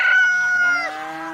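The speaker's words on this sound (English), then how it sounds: "And so he crows as the rooster does." A rooster crows loudly and close, one sustained harmonic cock-a-doodle-doo that holds steady and then drops in pitch toward its end.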